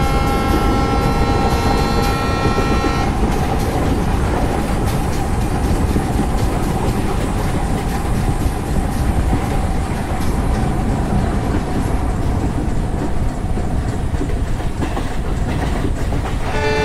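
Train running on rails in Indian Train Simulator on a Goa–Karnataka route, with a steady loud rumble and rhythmic clickety-clack of the wagons that continues without a break and has no talking over it.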